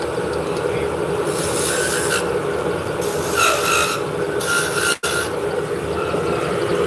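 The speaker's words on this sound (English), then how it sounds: "Now we're going to put 2 beads on the bottom. We're going to use a beading tool." A beading tool pressed into spinning wood on a lathe, giving a steady rasping cut that swells in several short bursts over a constant motor hum, with one brief break.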